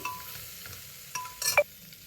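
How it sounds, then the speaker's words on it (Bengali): Mutton paya with ground pepper is stirred in a pan, a faint low sizzle broken by a few sharp scraping and clinking strokes of the utensil near the end, with no speech. "এবার একটু গোলমরিচ গুঁড়ো দিয়ে দিচ্ছি দিয়ে একটু নাড়িয়ে দিচ্ছি"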